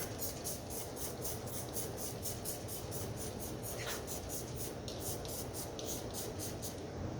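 Rapid, regular bursts of a spray bottle of soapy water being pumped, a steady rhythm of short hissing sprays over a constant low background hum.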